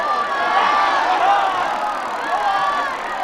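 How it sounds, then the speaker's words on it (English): Crowd cheering at a Quidditch match in the Harry Potter and the Philosopher's Stone PlayStation game, a loud continuous roar of many voices with rising and falling swells across the whole stretch. "The crowd is on its feet!"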